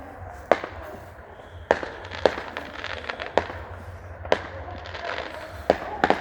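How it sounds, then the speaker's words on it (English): Fireworks bursting over a bonfire night display in Bicester, with about nine sharp distant bangs and crackles spread across the clip above a low steady rumble. "Some more fireworks over there."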